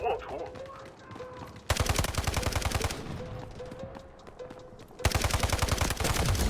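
Gunfire in the video game Delta Force: loud rapid automatic bursts fill the clip, with a short pause between volleys and a brief quieter stretch, and players talk excitedly underneath.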